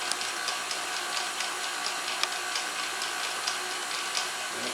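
A stand mixer kneads brioche dough at a steady pace, giving a constant mechanical whir with faint regular ticks and clicks from the machine throughout, at moderate level with no talk.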